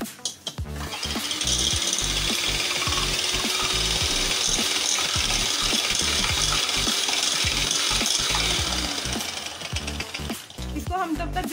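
An electric mixer whips separated egg whites to a foam for a chocolate coffee cake, a steady loud whirring drone with rattling, grinding texture that runs continuously for most of the stretch before easing off near the end.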